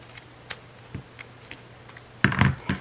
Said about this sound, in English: I'm going to cut this right in 2.